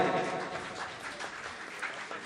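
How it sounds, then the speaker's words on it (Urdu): An audience at an international Urdu mushaira applauds to welcome the poet Lata Haya, a dense, steady wash of clapping with a faint voice underneath. "زوردار تالیوں سے لتا حیا صاحبہ کا استقبال کریں۔"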